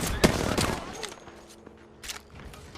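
Charge rifle gunfire in a video game, several sharp loud bursts and cracks in quick succession, mixed with game sounds and footsteps under faint voices.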